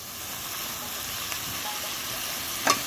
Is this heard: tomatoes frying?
yes